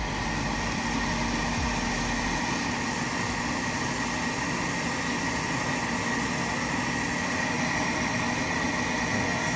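Ikawa Pro50 coffee roaster roasting a batch of beans, a steady close whirring hum of the fan and heater with no change in level throughout.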